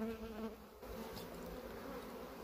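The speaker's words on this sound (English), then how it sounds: "I'm going to shake these bees down in here from the old frame." Honey bees buzz steadily at an opened hive being treated for European foulbrood, a close, continuous insect drone with no speech.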